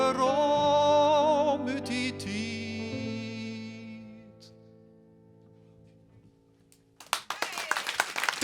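Applause erupts from the audience at the Liet 2015 song contest finale, bursting in loudly just as a song's music fades out and building into dense, close clapping at the very end.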